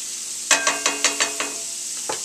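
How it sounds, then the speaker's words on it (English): Red peppers and other vegetables sizzle in rendered pancetta fat for a corn and pancetta hash, with a series of six or so soft, evenly spaced scraping stirs over a steady low hiss. "we're going to let these vegetables sweat down in the pancetta fat"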